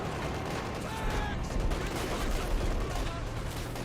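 Artillery barrage in the real-time strategy game Company of Heroes 2, Panzer Commander artillery: repeated distant booms and crackling gunfire in a dense battle mix, with a commentator's voice talking over it.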